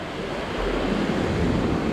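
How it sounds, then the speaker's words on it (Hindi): Waves wash steadily over a rocky beach in Cochin, a continuous near surf roar with wind noise buffeting the microphone throughout. "ये बीच है लेकिन रॉकी बीच है"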